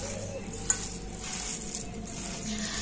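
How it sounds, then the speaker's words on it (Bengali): Sago recipe ingredients are mixed by hand in a bowl, a continuous soft, wet rustle with a faint click or two, close and fairly loud, with no talking. "আর এখন আমি হাত দিয়ে সবকিছু খুব ভালো করে মিশিয়ে নেব।"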